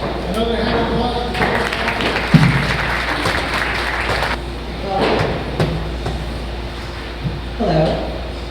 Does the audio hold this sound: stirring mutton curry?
no